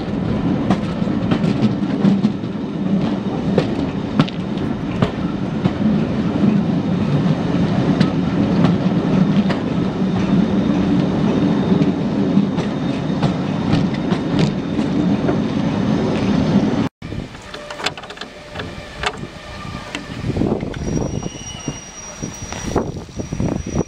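LMS steam locomotive 8274 rolling very slowly through Ruddington depot on a heritage railway, a steady loud rumble with faint clanking wheel noise, then a sudden cut to a quieter, thinner stretch with scattered knocks.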